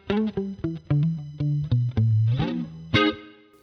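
An electric guitar plays a short run of plucked single notes and a final chord, processed with chorus and a brief, tight reverb, each note clear and separate with no talk.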